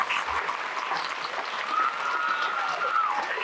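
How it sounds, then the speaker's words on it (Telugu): An audience at a school event claps for the teachers, a steady, dense round of applause that holds throughout with a faint whistle-like tone rising over it. "ఒక్కసారి మీ టీచర్లందరికీ చప్పట్లు కొట్టాల్సిందిగా మిమ్మల్ని కోరుతా ఉన్నా"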